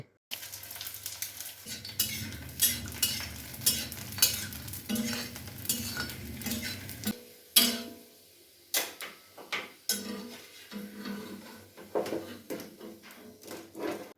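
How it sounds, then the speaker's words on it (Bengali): Oil sizzles and crackles steadily as fuchka puris fry, with a spatula scraping and tapping against the pan at intervals. "এখন আপনারা দেখতে পাচ্ছেন মা রান্নাঘরে ফুচকা ভাজছে"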